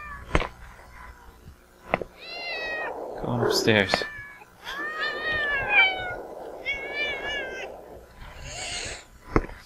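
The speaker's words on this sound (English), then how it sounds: "Why is that cat so loud? Oh my god, look at all the cats!" Cats meow and hiss in the Thirty Flights of Loving video game, several loud drawn-out yowls and meows with a harsher hissing burst, close and overlapping, while a person briefly speaks.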